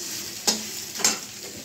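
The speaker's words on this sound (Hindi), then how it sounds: "तो उसको एकदम डीप फ्राई करती हूँ ताकि बिल्कुल खाने में क्रंची से लगे।" Small fish deep fry in hot oil with a constant bubbling sizzle, broken by two sharp scrapes or stirs against the pan, close and fairly loud with no voices.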